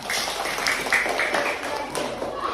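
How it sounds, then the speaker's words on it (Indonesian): A classroom of students claps for two classmates, a short burst of scattered, light hand claps at moderate distance with some faint voices mixed in. "Berikan tepuk tangan buat Rasya dan Laila"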